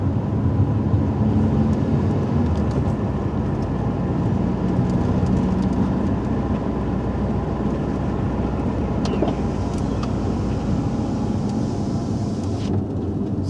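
A vehicle drives steadily down an airport runway during a feature-point test, giving a continuous loud rumble of engine and road noise with no break or talk throughout.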